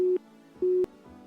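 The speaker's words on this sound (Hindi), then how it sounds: "ये किसका फोन आ रहा है?" A phone ringing with an incoming call in a TV crime drama scene, heard as two short electronic tone bursts separated by a pause, clear and alone with no talking.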